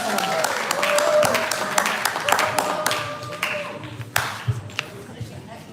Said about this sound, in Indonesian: Tepuk tangan sekali lagi teman-teman